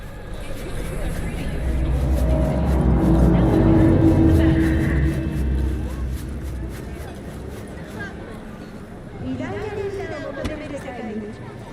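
A car drives in the video game Cyberpunk 2077, with a low engine rumble that swells and then eases off, steady road noise, and people talking over it.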